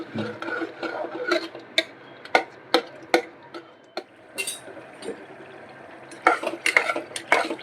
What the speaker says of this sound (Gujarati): હવે આપણે કાંદા એડ કરી દઈશું। બે મિનિટ માટે સાતડી લેશું